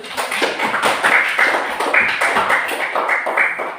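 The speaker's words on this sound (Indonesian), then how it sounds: "tepuk tangan untuk alam dulu" A class of students claps for a classmate during a physical education lesson, a close, lively patter of many hands clapping steadily for a few seconds.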